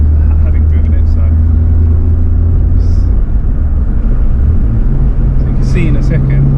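A Nissan R34 GTR drives along in Japan, its steady low engine drone and road rumble running continuously and loud throughout, with faint higher mechanical ticks and a slight shift in engine tone near the end.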